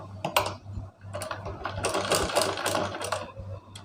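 Sewing machine stitching a straight seam along a folded blouse lining; a close, busy mechanical rattle of gears and needle strokes running in short bursts with brief pauses, growing steadier and louder midway.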